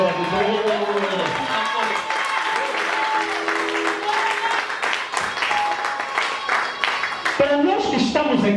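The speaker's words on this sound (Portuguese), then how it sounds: "Aplausos para a glória de Deus." Church congregation applauding in praise during a bilingual Portuguese–Lingala sermon, a dense steady wash of clapping with voices and music mixed in throughout.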